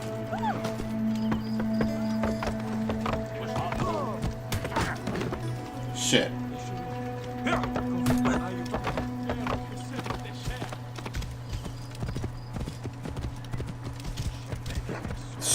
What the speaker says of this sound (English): Let's get on my horse.